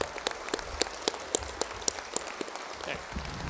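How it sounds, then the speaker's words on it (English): Audience applause for political candidates at a Reagan Day dinner in Kingsport, Tennessee, heard as sparse, distinct hand claps spaced through the room rather than a dense roar, with faint background murmur. "Let's give all of these candidates a round of applause."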